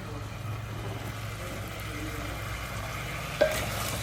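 Chicken for chicken manchurian cooking in oil over high heat, a steady low sizzle with stirring, one sharp clink of a utensil near the end.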